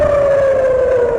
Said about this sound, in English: this is the sound of what the war sounds like in Beersheba in southern Israel.